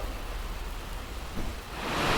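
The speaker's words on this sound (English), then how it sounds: "it's decided to rain and it's a little noisy in here" Rain falls steadily, heard from inside a workshop as a soft, even hiss that swells louder toward the end.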